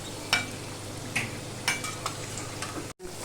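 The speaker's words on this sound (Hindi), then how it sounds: "अब मैं दूसरा बैच तल रही हूँ।" A second batch of litti fries in hot oil with a steady, soft sizzle throughout, broken by a few sharp clinks of a utensil turning the pieces, close up and without speech.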